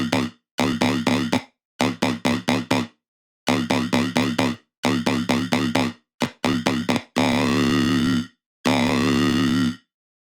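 A vowel-style wobble bass synth patch made in Xfer Serum, played as choppy rhythmic bursts of talking, formant-shifting growls separated by clean silences, ending in two longer sustained wobbling notes, loud and alone.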